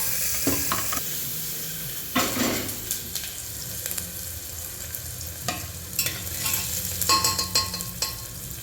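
Cumin seeds and onion frying in hot oil for a mutton dish, a continuous close sizzle broken by repeated scraping stirs of a spatula in the pan.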